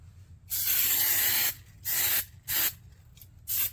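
Old, partly clogged hairspray sprays onto a model schoolhouse's corrugated roof in four close hissing bursts: one long spray, then three shorter ones, with brief quiet gaps between and no talk.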